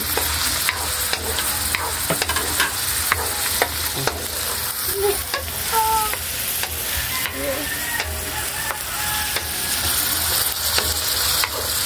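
Chicken liver and pancit canton noodles stir-fried in a pan, a steady close sizzle with frequent scraping and clacking strokes of the spatula throughout, no voices.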